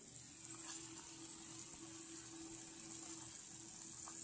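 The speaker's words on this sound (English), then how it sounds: "Is the mic picking up the butter sizzling?" Butter sizzles in a pan while macaroni and cheese is being made, giving a faint, steady frying crackle with a low hum underneath and no voices.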